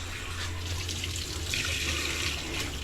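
Foamy water gushes steadily from a motor-driven well pump, a continuous rushing splash with a low motor hum underneath, heard close and alone.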